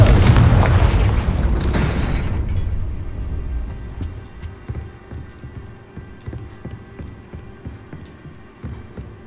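A heavy Confringo blasting-spell explosion from Hogwarts Legacy, a loud booming burst that rolls and decays over several seconds into a low rumble with scattered faint crackles and pops.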